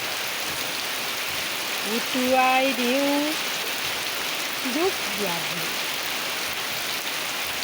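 Steady hiss of rain falling, with a voice briefly singing a few notes over it partway through.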